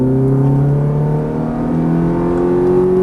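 Ferrari F430 accelerating on the Exotics Racing track in Las Vegas, its engine note rising steadily as the throttle opens, loud and close throughout.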